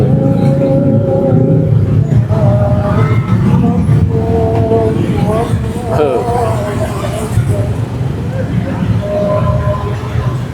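Jammed street traffic in Bandung on takbiran night makes a steady, loud wash of engine rumble and crowd babble, with voices talking close by throughout.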